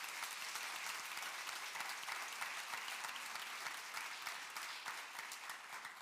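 A church congregation claps together in a steady, dense burst of applause during a Spanish-language sermon, sustained for several seconds at a fairly soft level with no voices over it.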